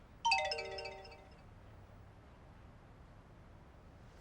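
A phone rings out a single bright, chiming message notification that rings and fades over about a second, followed by a faint steady hiss in a quiet indoor room.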